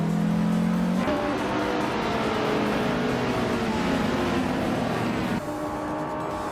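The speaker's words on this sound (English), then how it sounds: "The Beast is starting on pole in a classic 1963 Porsche 904." A classic 1963 Porsche 904 race car launching from pole at the start of a race at Vallelunga, engine roaring and revving hard close by with shifting tones, sustained and loud for several seconds alongside other cars.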